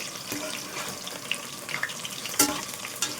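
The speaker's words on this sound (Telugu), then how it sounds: "లైట్ గోల్డెన్ కలర్లోకి వచ్చిన వరకు అయితే మనం ఫ్రై చేసుకోవాలి వీటిని" Soya chunks for a manchurian fry in oil in a home kitchen, giving a faint sizzle with scattered crackles and a few sharper pops, heard alone without speech.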